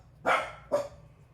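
Two sharp barks from a dog in rough play, the first louder and longer, the second shorter, close and clear over low background hum.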